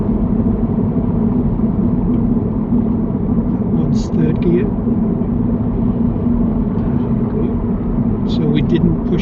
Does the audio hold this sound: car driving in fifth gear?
yes